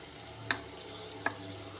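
Malayalam spice paste for sardine pickle simmering in a pan, giving a faint steady bubbling hiss with two soft stirring clinks, no voices.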